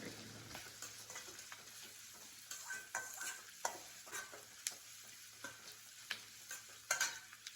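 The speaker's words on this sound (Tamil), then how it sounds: "வெங்காயம் நல்லா வதங்கணும்." Onions with curry leaves sauté in hot oil in a pan for South Indian tomato rice, a continuous soft sizzle broken by repeated scraping strokes of a spatula stirring them; no voices.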